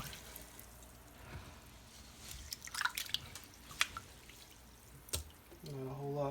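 Water filling a container of soaking wild bird seed for rinsing, faint drips and splashes with intermittent sloshing, ending in a short burst of voice-like sound.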